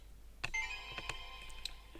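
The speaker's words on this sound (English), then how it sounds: "my phone is going off." A mobile phone rings during a live trading session, a short electronic ringtone with steady tonal notes and a few sharp chirps, fairly faint beneath quiet room noise.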